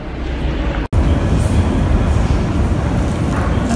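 A train rumbles along with a continuous low roar and rattle, broken by one very brief dropout, close and fairly loud.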